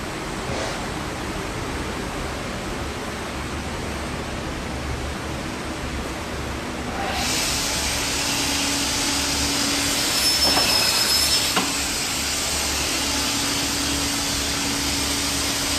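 A Holz Her vertical panel saw runs through a 1,200 mm cut, a steady broadband whirring roar that grows louder partway through and continues without voices.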